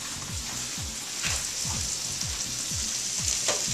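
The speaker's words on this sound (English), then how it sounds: "we'll wilt this spinach" Spinach sizzles and fries in a hot pan with a steady hiss, broken by repeated soft scraping strokes as it is turned, loud and close with no voices.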